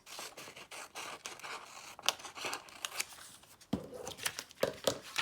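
Close scissors snip out pictures from paper pages for a junk journal, a quick irregular series of crisp cuts with paper rustling and a few sharper clacks, no voice.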